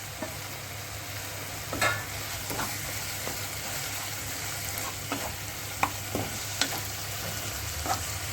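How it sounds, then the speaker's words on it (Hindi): Tomatoes with turmeric and Kashmiri red chili cook in a pan for an ivy gourd curry, giving a steady low sizzle with a few soft spoon scrapes and knocks spread through, close by and without talk. "अब हम इसमें हल्दी और कश्मीरी लाल मिर्च भी डाल रहे हैं और ढक के 1 आधा मिनट पकाएंगे"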